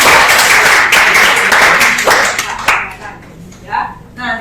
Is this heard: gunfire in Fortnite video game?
no